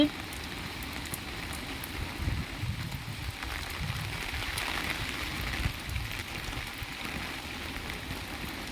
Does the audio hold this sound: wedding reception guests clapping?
no